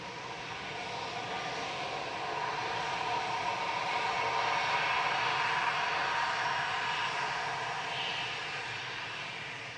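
An EasyJet airliner departing Manchester Airport for Barcelona on an evening flight, a steady broad jet engine roar heard from a distance that swells slightly and then eases back, with no talk.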